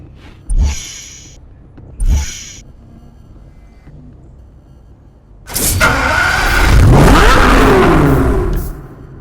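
Chevrolet Corvette ZR1 engine in Need for Speed Hot Pursuit Remastered: two sharp blips near the start, a pause at idle, then a loud close rev that climbs and holds before easing off.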